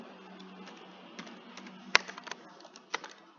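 Typing a ChatGPT prompt on a computer keyboard: quiet, scattered keystrokes in an uneven rhythm, with one sharper click standing out against faint background hum.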